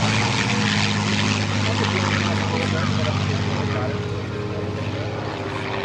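A formation of World War II-era warbird propeller aircraft, the Class of '45 at EAA AirVenture, drones past loudly with a continuous, rumbling engine roar. The planes sound near and sustained throughout.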